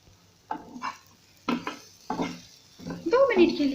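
Tawa idli cooking in a pan, with a series of stirring and scraping bursts against a utensil and a light sizzle, the last burst busier and more sustained.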